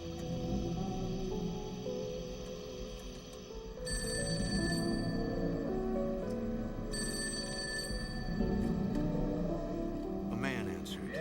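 A telephone rings in two separate bursts of bell ringing under steady narration, with a low hum throughout.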